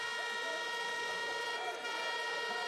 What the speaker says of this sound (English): They like their air horns here in Bullitt Park.